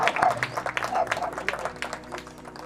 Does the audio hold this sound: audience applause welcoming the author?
yes